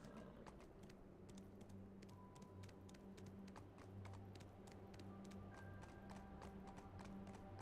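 Horse hooves in Black Desert Online keep up a steady, even clip-clop close by, running the whole time over a low sustained musical drone.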